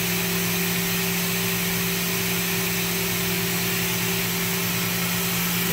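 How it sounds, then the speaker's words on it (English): The subspindle assembly of a WC-400 machine travels along its A axis. The recording is a loud, steady mechanical whir with a constant hum that continues through the whole stretch. "an A positive is going to go away from the main spindle."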